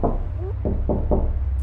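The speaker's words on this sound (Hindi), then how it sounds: "दरवाजा खटखटाया" Knocking on a house door, four sharp evenly spaced raps close by, with a faint low hum running underneath and no talking.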